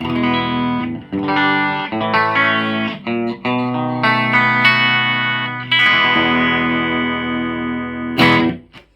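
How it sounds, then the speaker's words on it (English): A clean electric guitar runs straight into a Selmer Treble and Bass Mark II amp, playing sustained chords and single notes with sharp attacks, loud and close, with no voices. "that is the sound of the guitar plugged straight into the amp"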